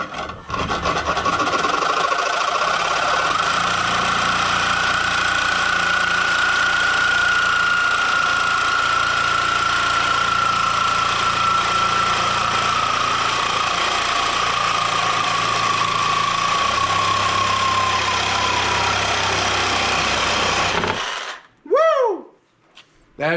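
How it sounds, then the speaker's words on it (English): A cordless Sawzall reciprocating saw cuts through wood with a loud, continuous, rasping buzz for about twenty seconds. The blade's pitch drifts slightly as the cut goes on, then the saw stops abruptly and a brief rattle follows. "we'll grab our Sawzall, a battery, and we shall cut this off."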